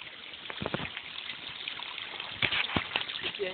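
Water runs along a small channel toward a mill, a soft continuous trickle with a few brief splashes and gurgles, fairly faint and steady throughout.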